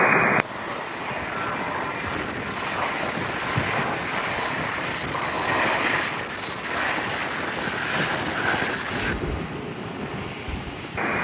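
An Emirates Airbus A380 roars through its takeoff at Toronto Pearson, its jet engines producing a loud, sustained close-up rumble and whine that holds steady throughout.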